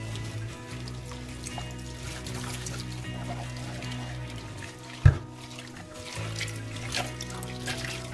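Water runs while the parts of a Juico Uno juicer are rinsed with soap, a low steady splashing and trickling broken by a single sharp clunk of a part midway.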